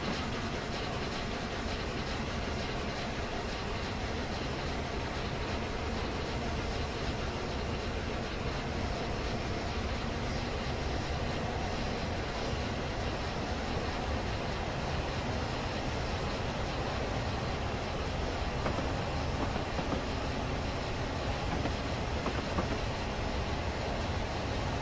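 Train Simulator 2016 game audio of BR Blue class A1 steam locomotive 60163 Tornado hauling the Royal train coaches on the Bristol–Exeter line, a steady dense rumble of running wheels and rail noise with faint clickety-clack, continuous and unbroken, with no talking.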